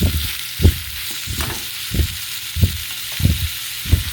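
Young jackfruit frying with salt in a pan gives a steady sizzling hiss, broken by regular low scraping stirs about every two-thirds of a second. The sound is close and loud, with no voices.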